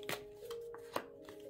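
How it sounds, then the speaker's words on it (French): Tarot cards being shuffled by hand, a few soft riffling and slapping bursts spaced out over a steady faint background hum, close and fairly quiet. "C'est qu'elles sont magnifiques ce tarot, mais il est pénible à mélanger"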